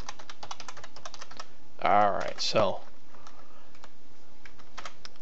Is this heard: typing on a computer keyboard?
yes